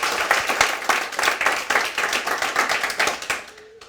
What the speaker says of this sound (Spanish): Démosle un fuerte aplauso a su Señor.